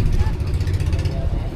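A large wooden fishing boat's big engine runs nearby, a loud, steady low throbbing rumble with a faint higher whine on top.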